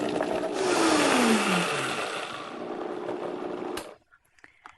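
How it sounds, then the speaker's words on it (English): A Vitamix blender whirs loudly and steadily as it blends celery, lemon juice, vinegar and water, its motor pitch sliding as it runs, then cuts off abruptly, leaving a few small clicks. "I'm going to blend all this up really well and just add a little bit of water"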